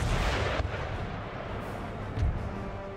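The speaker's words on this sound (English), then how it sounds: "Here comes the volleys." Musket volleys firing in the video game Empire Total War, booming blasts over a dense roar of battle, with two louder reports standing out about a second and a half apart.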